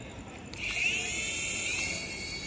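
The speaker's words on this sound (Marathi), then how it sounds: "जसा ड्रोन उडतो ना त्या पद्धतीच तो हेलिकॉप्टर पण उडतो." A small toy helicopter bought at a fair starts up and flies like a drone, its whiny high-pitched motor buzz rising after a brief pause and holding steady and close, with no talk.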